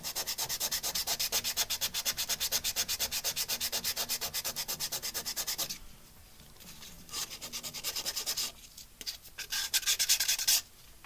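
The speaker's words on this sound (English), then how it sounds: "So as I'm sanding right over the wet" Sandpaper held against a spinning wood turning on a lathe, coated in wet CA glue, gives a steady rhythmic rasping that pulses with each rotation, broken by pauses and short renewed passes near the end.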